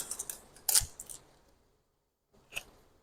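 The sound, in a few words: opening a small free skincare product package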